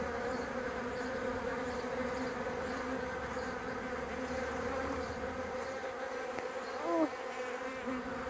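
Honeybees buzzing in a dense, steady drone around a crowded hive of worker bees, continuous and close throughout, with one brief louder swell near the end.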